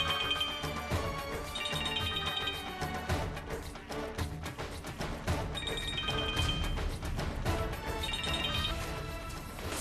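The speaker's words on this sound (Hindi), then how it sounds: "Come on, pick up the phone." A phone ringtone plays in repeated bursts over dense, steady music, the electronic tones standing out at regular intervals.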